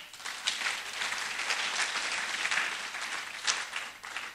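A church congregation applauds during a sermon, a moderate round of clapping from many hands with a few sharper claps standing out, fairly distant and steady.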